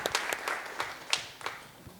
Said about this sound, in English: So let's give her another round of applause, please.